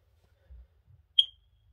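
A FireX FADC230 smoke alarm gives a single short, high-pitched chirp at close range in an otherwise quiet room, preceded by a couple of faint low thumps.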